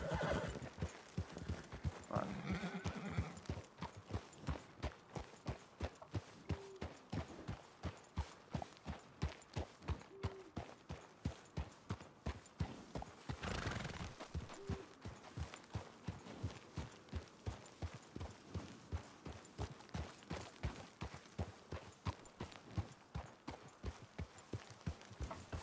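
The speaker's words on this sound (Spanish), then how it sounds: "Porque por lo pronto los caballos están de los nervios." Nervous horses in snowy Red Dead Redemption country give a few whinnies early on while steady clip-clopping hooves keep a regular walking rhythm throughout, close and fairly quiet.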